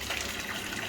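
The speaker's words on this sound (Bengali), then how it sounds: "পাম চালিয়ে দিয়েছি, ওই জন্য আওয়াজ হচ্ছে।" An electric water pump fills a household water tank with a dense, steady rushing gush of flowing water, loud and close, with no talk.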